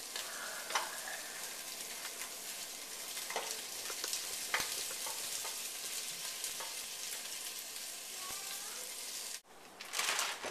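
Onions sizzle and crackle in a hot pan, with scraping spoon strokes stirring them; a steady bright frying hiss with scattered pops, briefly cut off near the end before resuming.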